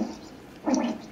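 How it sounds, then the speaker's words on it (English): A squelchy fart sound effect played through an Alexa smart speaker, a brief wet, bubbly sputter that swells in a second burst about halfway through, fairly close and heard alone without talk. "Here comes a very squelchy fart."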